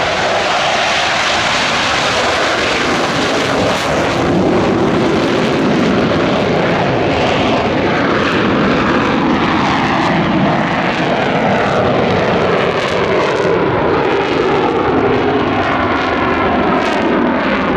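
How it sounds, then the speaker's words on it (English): A French Navy Dassault Rafale Marine jet roars loud and continuous at an airshow, a broad sustained engine blast that swells and shifts in pitch as it passes, with no voices over it. "the French Navy's member squadron of the NATO tour, of the magnificent Dassault Rafale Marine"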